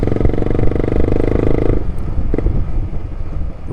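A loud motorcycle runs close by with a throbbing, pulsing engine rumble, then the note drops away and turns rougher and more uneven toward the end.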